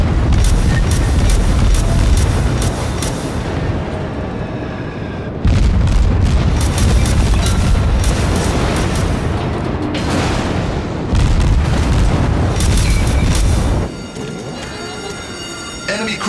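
Enemy cruiser blowing apart in a naval video game: loud, sustained roaring blasts with rumbling booms arrive in several heavy waves, each cut off abruptly, then a quieter rumble lingers.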